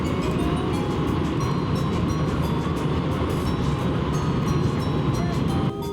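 A Japanese limited express train rumbling steadily along the rails between Nagoya and Nagano, a loud continuous drone with rhythmic clatter, cutting off abruptly at the end.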